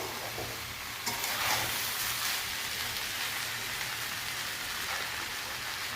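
Rice frying in a mix of ghee and oil, giving a soft, continuous sizzle that holds steady from start to finish, with no voices.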